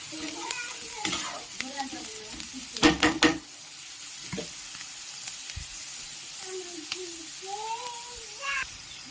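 Ingredients frying in a pan until reddish for spicy semolina upma, a low steady sizzle with spoon scrapes and a brief burst of clattering stirring, while a voice speaks intermittently over it.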